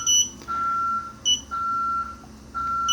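An alarm system's fingerprint entry panel at a building's double door gives short, clear electronic beeps in a repeating pattern, roughly one every second, over a quiet background hum, with no one speaking.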